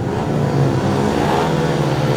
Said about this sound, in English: Bikes are revving away here